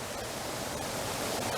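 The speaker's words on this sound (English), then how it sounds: "I just found this little quiet place with the sound of water spilling over the ledge there." Water spilling over a ledge in a quiet spot at Zealandia, a steady broadband rush of falling water, continuous and even throughout with no voices.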